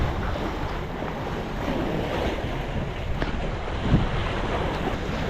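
Strong sea waves surge continuously against a rocky coast at Tanjung Pinggir in high wind, giving a loud, steady roar mixed with gusty wind noise on the microphone.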